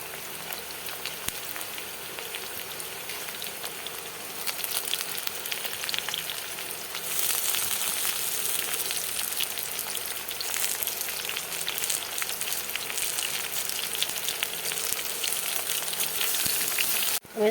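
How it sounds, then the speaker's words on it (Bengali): Capsicum and onion hit a hot pan of already-fried potatoes for a flattened-rice dish, giving a steady, close sizzle that swells louder partway through and keeps crackling with no talking. "এবার আমি এই ক্যাপসিকাম আর পেঁয়াজটা দিয়ে দেবো"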